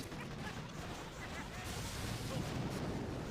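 Artillery fire from the Boom Beach strategy game: a dense, continuous roar of blasts and crashing impacts with no distinct individual shots, holding a steady moderate level and swelling slightly near the end.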